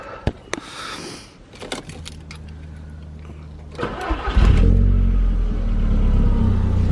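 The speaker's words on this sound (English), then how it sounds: "let's just see if we can start her up" A few clicks and a jangle of keys, then a starter cranking briefly before a car engine catches and settles into a steady, close rumbling idle.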